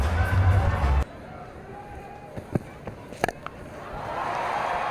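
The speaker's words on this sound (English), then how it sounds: "the crowd are loving it" Cricket crowd roaring after a six at Newlands in a Cape Town Blitz versus Paarl Rocks T20 match: a loud, dense cheer for about a second that cuts off abruptly, leaving quieter stadium ambience with scattered sharp noises.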